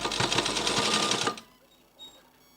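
A sewing machine runs a quick burst of stitching, sewing thread piping around a leaf shape, its rapid needle chatter stopping after about a second, followed by a faint click.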